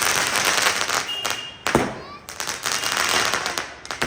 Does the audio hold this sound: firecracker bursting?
yes